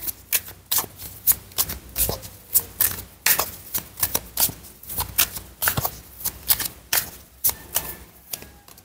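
Tarot cards shuffled by hand in quick, crisp riffles and slaps, close and fairly loud, repeating in uneven bursts without any talk.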